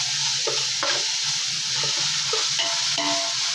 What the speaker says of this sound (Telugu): మసాలా అంతా వేగాలి.